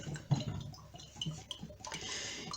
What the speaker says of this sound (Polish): ja tą wodę kokosową przeleję do szklanki